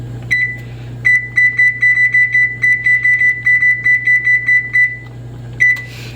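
Kitchen appliance timer being set for 18 minutes while rice cooks, a run of short, loud, evenly spaced electronic beeps over a low hum, ending with one more beep after a pause.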